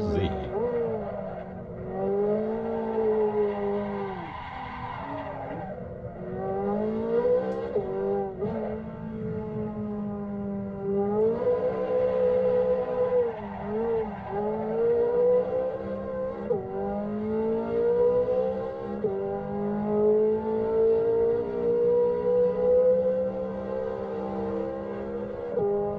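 A 2023 Chevrolet Corvette Z06 3LZ (C8) accelerates on a test track, its engine howl climbing through repeated rising sweeps with brief dips at each gear change, loud and sustained throughout.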